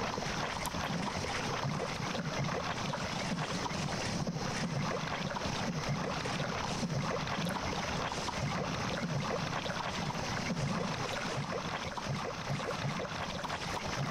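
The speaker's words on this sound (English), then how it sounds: "I don't like the slushing sounds." Murky water sloshing in the swampy Upper Latria area of the game Demon's Souls on PS3, a steady, faint, washing ambient texture that continues without a break and is heard alone.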